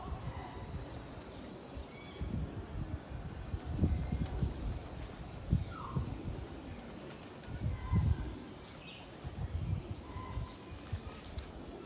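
Desi Gola pigeons cooing in a loft area, soft repeated low coos and wing flutters close by, with occasional clatter and brief higher calls over the murmur.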